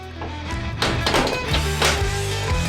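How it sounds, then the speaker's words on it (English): Doors of a huge baking oven swinging shut on giant cookie-dough molds, a couple of heavy thunks and knocks up close over a low droning hum, with no talking. "We close the doors and turn on the burners."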